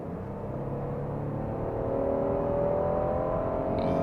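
A 2015 Hyundai Genesis with its 3.8-liter V6 accelerating, a steady engine drone rising gradually in pitch and loudness as it pulls through a long gear, heard from inside the car with no talking.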